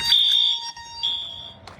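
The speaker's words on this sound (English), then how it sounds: "I'm gonna do one last fire alarm test" A house fire alarm on a Radionics D9412G system sounds close and loud, a piercing high electronic tone in two long bursts separated by a short gap.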